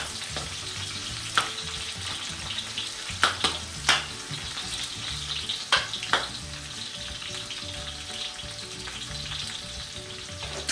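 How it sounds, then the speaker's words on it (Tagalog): Onions sauté in a pan for kare-kare, giving a steady broad sizzle with stirring scrapes and a few sharp crackling pops throughout, close and alone with no talk. "Siyempre, yung sibuyas. Ayan, gisa-gisa lang."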